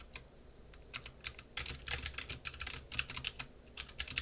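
Bursts of keystrokes on a computer keyboard during a programming lecture, quick irregular clicks clustered in rapid runs with brief pauses, close and fairly crisp, no voices.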